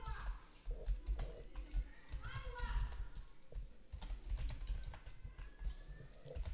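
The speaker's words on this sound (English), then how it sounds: "You can type in this text" Typing on a computer keyboard, a quick irregular run of close, light key clicks heard under a person talking.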